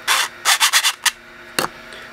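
A 3D printed slit-scan disc camera mechanism rubs and rasps in short, scratchy strokes, a quick run of four then a few isolated scrapes, close and fairly loud.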